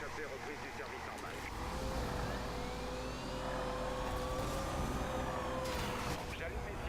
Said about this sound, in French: J'allume mes sirènes, c'est parti.